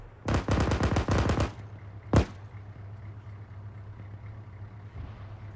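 Machine gun fire on a military field exercise: a rapid burst of about ten close, loud rounds, then one more single shot after a pause, over a steady low engine hum.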